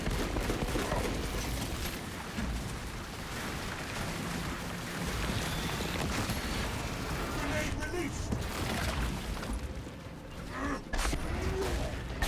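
Heavy weapon gunfire in Space Marine 2 during a hard boss fight: a dense, continuous roar of rapid shots and blasts fills the whole stretch, loud and unbroken, with voices talking over it.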